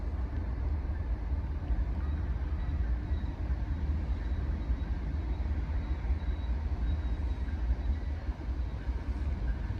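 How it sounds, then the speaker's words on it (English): A long westbound coal train rolls past near Cresson, Pennsylvania, a continuous heavy low rumble of wheels and cars that holds steady and loud throughout, with no talk. "Looks like a coal train."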